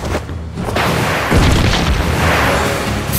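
A big blast in the Naruto Online video game booms loud and close, then rumbles on in a sustained roar, with a second heavy impact midway.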